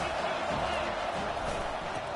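Stadium crowd in the NCAA 25 college football video game, a steady loud roar of many voices holding at an even level throughout.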